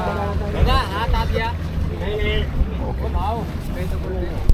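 A motorboat used for parasailing off the coast at Malvan, its low engine rumble and wind buffeting running steadily under someone talking excitedly throughout.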